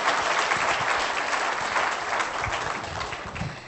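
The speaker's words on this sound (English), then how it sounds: "please give a round of applause" Audience applause at a conference opening ceremony, a dense, steady wash of many hands clapping that holds strong for nearly four seconds and then tapers slightly at the end.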